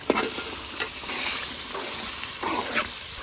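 Mutton pieces going into a spice paste that has been frying in a pan, giving a steady loud sizzle with a few sharper spits and crackles as the meat lands.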